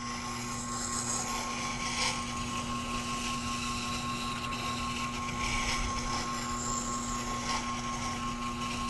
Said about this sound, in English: now we can refine the scratch pattern in the bevel on our scissor